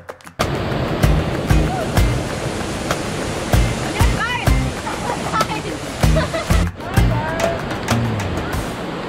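Waterfall in Greece rushing in a constant broadband roar, joined by splashing and sloshing water close by with irregular bumps and knocks as people move near it; voices are heard briefly.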